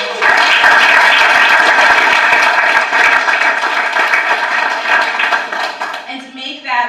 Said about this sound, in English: So let's give another round of applause.